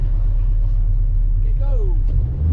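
A car engine on its first autocross lap of the day, oil barely warmed, rumbles loud and low in a steady drone, with a short vocal sound rising over it near the end.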